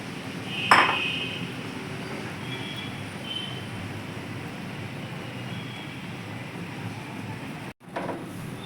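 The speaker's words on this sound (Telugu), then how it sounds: "దీన్ని ఏంటంటే ఇలా మిక్స్ చేసుకుంటూ కొంచెం దగ్గరికి వచ్చేదాకా మిక్స్ చేద్దాం" Ragi paste stirred in a pan for a sweet, a steady scraping, mixing rustle with one sharp metallic clink near the start and a brief break near the end.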